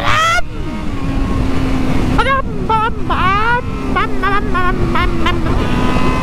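A motorcycle engine drones steadily while the rider revs it in sharp rising bursts during a wheelie, loud and close, with an occasional voice underneath.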